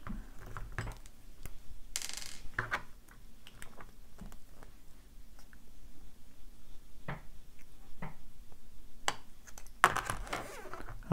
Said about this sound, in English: This comes off very easily with a, I believe a 5 inch Allen wrench.